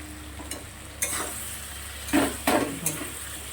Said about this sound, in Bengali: গ্যাস কম করে দিয়ে মোটামুটি 5 মিনিটের মতন কষিয়ে নেব